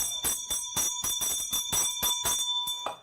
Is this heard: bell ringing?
yes